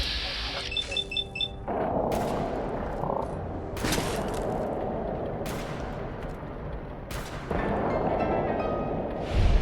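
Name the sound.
turret gunfire in video game Fallout 4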